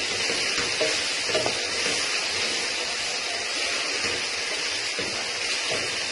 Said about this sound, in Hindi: तो मिक्स कर लेते हैं अच्छी तरह